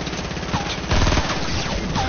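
Rapid burst of gunfire from a first-person shooter video game, dense and loud, with a heavier crack near the middle and no talking during the clip.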